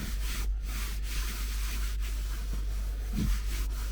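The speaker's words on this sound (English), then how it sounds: "So here we're just going to finish it down and rub it actually in." Cleaner is rubbed by hand into a fabric car seat in an auto detailing garage, a steady, close scrubbing hiss that runs on without pause.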